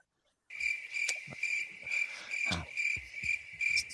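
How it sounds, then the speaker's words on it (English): Dense, steady chorus of many crickets trilling nonstop at close range, with a few soft thumps and rustles underneath and no talking. "The crickets just keep going. They won't stop. A lot of crickets."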